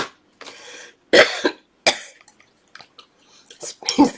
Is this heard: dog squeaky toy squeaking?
no